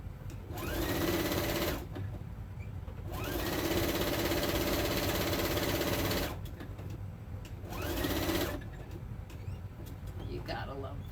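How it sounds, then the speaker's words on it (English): A home sewing machine stitching tea towels runs in three bursts, each whirring drone lasting a couple of seconds with short pauses between, while a voice talks quietly beneath. "You gotta love power sewing"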